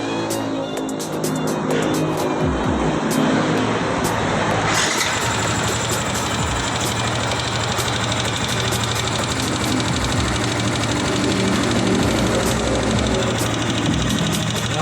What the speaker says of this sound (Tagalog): parinig ko sa inyo na may lagitik